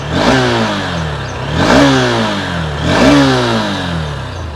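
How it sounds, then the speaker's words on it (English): A Honda CB200X motorcycle revs up three times. The close, loud exhaust note rises and falls in steady swells over a continuous idle. "let's take a quick look at the exhaust note"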